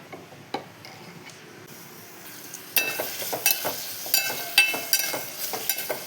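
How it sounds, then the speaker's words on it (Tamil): Chopped onions sizzle in hot oil in a pan for a chickpea gravy, with a spoon stirring and scraping in irregular strokes. The frying grows louder partway through and stays close, with no talk. "வெங்காயம் நல்லா வதங்கட்டும்."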